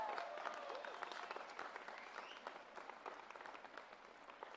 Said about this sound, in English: How about a round of applause for Provost Bowen?